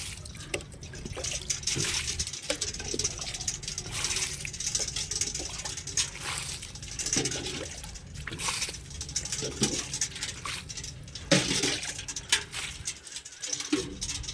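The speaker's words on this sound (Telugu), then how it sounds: "ముందుగా నేను వాటర్ వేసుకుంటున్నాను" Water pours and patters into a tub of dry, sun-baked soil being prepared for planting seedlings, a steady, fairly loud splashing wash that runs throughout with faint talk mixed in.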